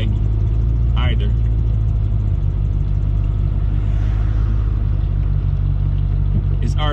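Steady low engine rumble from a supercharged Coyote V8 swapped into an SN95 Mustang, droning continuously throughout with a faint whine above it and brief background noises.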